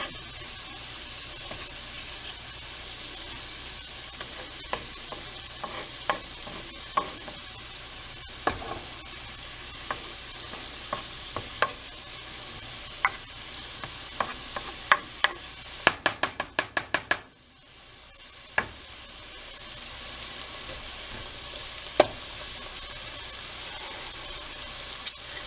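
Food for a seafood boil sautés in a pan with a steady, continuous sizzle, punctuated by scattered clicks and clacks of a utensil stirring and scraping, including a quick cluster of taps near the end.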